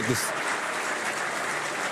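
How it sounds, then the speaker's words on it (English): Applause ringing out right after a prime minister's swearing-in ceremony for Mark Carney, a dense steady wash of clapping heard at moderate distance while a voice talks over it throughout. "We hear the applause."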